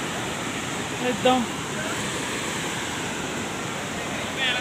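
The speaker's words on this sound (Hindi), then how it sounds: "पानी के शोर में कुछ भी सुनाई नहीं दे रहा" Loud, steady roar of rushing water at Aharbal in Kulgam, Kashmir, filling the whole clip as a continuous broadband wash, with a brief spoken phrase barely rising above it.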